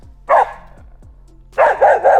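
A stray dog on a hiking trail in the Albanian Alps barks close and loud: one sharp bark, a pause, then a quick run of three barks.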